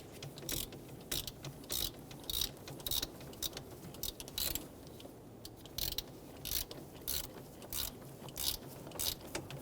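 A hand ratchet snugging down a spark plug bolt on a 2007-2021 Toyota Tundra 4.7L V8, quick bursts of clicking strokes repeating in an uneven rhythm, close and clear with no voices.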